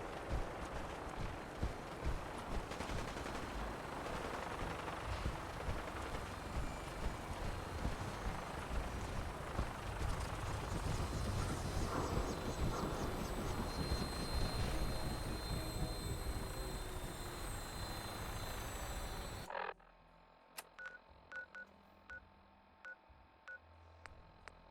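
Aircraft taking off in Fallout 4, a loud steady engine roar and rotor rumble that fills the scene for about twenty seconds before cutting off abruptly, leaving faint beeping tones and quiet clicks.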